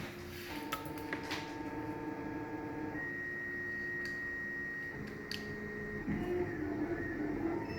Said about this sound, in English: And my printer's going.